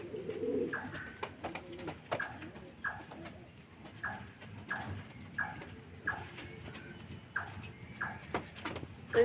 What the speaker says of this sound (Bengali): আরেক জোড়া পায়রা নিয়ে নিয়েছি